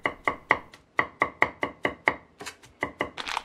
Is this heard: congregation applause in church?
no